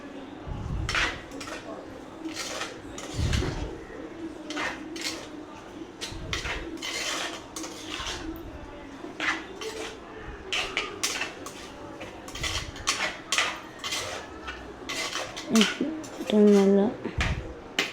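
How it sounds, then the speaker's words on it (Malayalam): Squid curry with chili powder being stirred in a pan, a utensil clinking and scraping against the metal in repeated strokes throughout, with a person talking over it. "എരിവിന് ആവശ്യത്തിനുള്ള മുളക് പൊടി ഇട്ട് നല്ലപോലെ ഒന്ന് മിക്സ് ചെയ്ത്"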